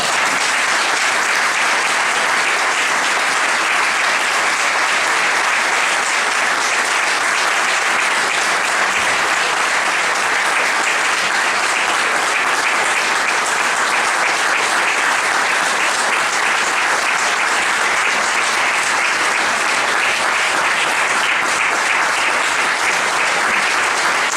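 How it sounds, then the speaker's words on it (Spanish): A long, loud, sustained burst of applause from an audience at a tribute talk honoring a doctor, dense and unbroken throughout. "me gustaría pedir un aplauso que retumbe la casa en casa"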